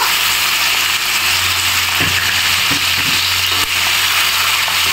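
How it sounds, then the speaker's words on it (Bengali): Boiled taro stems dropped into hot oil with spices, frying in a pan for an ilish fish head and taro greens dish; a steady, close sizzle hisses throughout with a few soft stirring bumps and no voices. "আর ঠিক এই পর্যায়ে আগে থেকে সেদ্ধ করে রাখা কচু ডাঁটাগুলো দিয়ে দিব"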